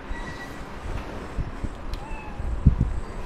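A cat meows in Spider-Man: Miles Morales, a few soft close mews over a quiet game ambience, with a sharper pair of calls near the end.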